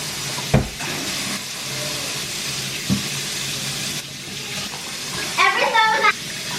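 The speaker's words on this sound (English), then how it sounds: "I need to tidy up some dishes in the sink" Water from a kitchen sink tap runs steadily as dishes are washed, with a couple of sharp clinks of crockery. A brief voice rises near the end.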